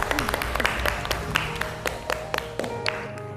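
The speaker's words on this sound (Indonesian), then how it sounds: "terima kasih, tepuk tangan untuk kelompok" A classroom group claps for a student group after its presentation, a dense patter of hand claps with sharp taps rising above the general applause and running steadily through the whole stretch.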